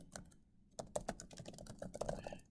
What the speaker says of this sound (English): I'll type in Atlantic